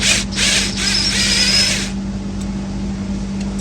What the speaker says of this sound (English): I'm gonna use a power tool to try to speed this up.